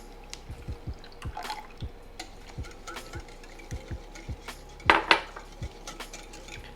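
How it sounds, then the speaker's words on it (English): A whisk beats two eggs in a mixing bowl, giving a quiet close series of light taps and clinks against the bowl, with a couple of louder clacks near the end. "Break out the whisk, give them a mix."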